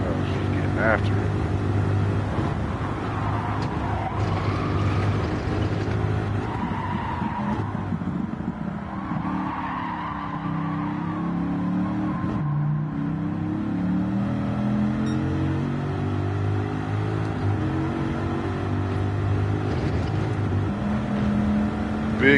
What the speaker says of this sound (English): Big difference rolling around through this thing with this car.